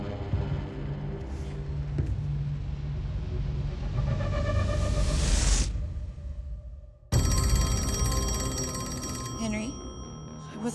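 A telephone rings loudly in a tense thriller scene, its bell-like tones layered over a rising rumble and dramatic score, then ringing again sharply after a brief drop.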